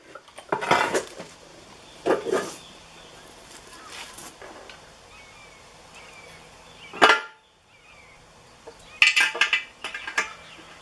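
Metal transmission parts for a 1994 Ford Ranger clink sharply in a few separate bursts as countershaft bearings are fitted into the case, with quiet handling noise between the knocks.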